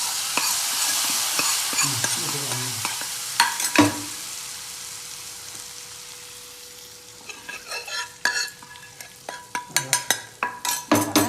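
A spoon stirs Kerala mango pulissery in a pan just after a chili-powder tempering is poured over it, giving scattered clinks and scrapes over a fading sizzle, with sharper metal taps clustering toward the end.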